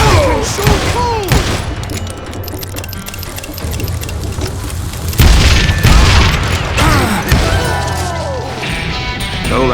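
A Western shootout in the video game Call of Juarez Gunslinger brings loud gunshots, crashing impacts and booms in bursts, with a heavy blast near the midpoint and game sound effects and music throughout.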